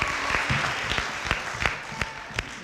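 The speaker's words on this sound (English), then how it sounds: "Let's give her a round of applause." Audience applause at a high school poetry slam for the food coordinator, a steady roomful of clapping with a few sharper individual claps standing out.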